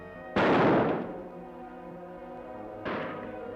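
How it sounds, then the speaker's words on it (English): Two gunshots in a western radio drama, set in a forest, each a loud booming crack with a decaying echo, the second about two and a half seconds after the first and slightly quieter. "Shots come from that direction, Kemo Sabe."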